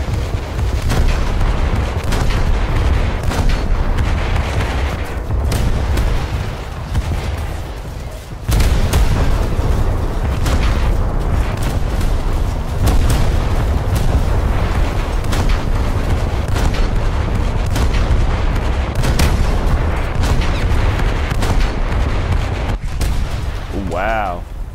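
Naval artillery shells fire and explode in a coastal battle video game featuring the U.S.S. Asheville, a continuous loud barrage of booms and blasts that runs unbroken for about twenty-five seconds.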